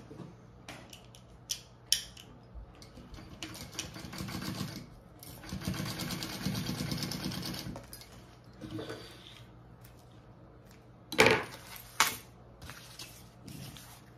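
A sewing machine basts fabric for a Louie waist pack, running in short bursts of stitching with clicks and pauses between them, the longest steady run in the middle.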